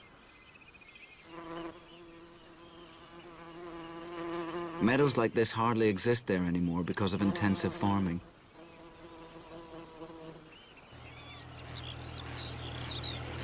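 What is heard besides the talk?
bumblebees humming in meadow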